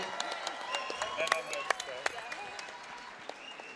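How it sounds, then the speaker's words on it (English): Crowd applauding both fighters after a five-round boxing match at a live fight night, a dense wash of clapping with sharper individual claps, slowly tapering toward the end, with an announcer's voice over it. "a massive round of applause for both of these men"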